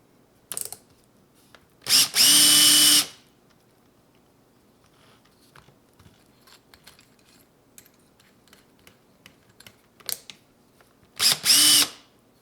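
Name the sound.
drill driving pins into a sci-fi knife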